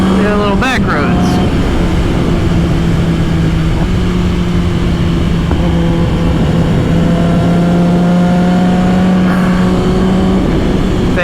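Engine of a 2022 Kawasaki Ninja ZX10R sport bike on back roads, a steady loud drone with a rising rev near the start, mixed with wind rush and a speaking voice throughout.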